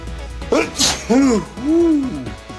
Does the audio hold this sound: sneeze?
yes